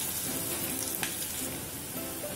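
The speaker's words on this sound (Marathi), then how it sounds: "आता मी जिरं घालते, हे सुद्धा मस्त परतवून घ्यायचंय." Cumin seeds frying with onion in a pan, a steady, close hiss of sizzling oil with one brief sharp crackle, no speech.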